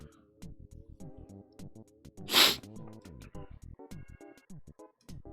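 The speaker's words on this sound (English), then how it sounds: "That sneeze came out of nowhere." A single sharp sneeze bursts out amid quiet, soft sniffs and small clicking sounds, close to the microphone.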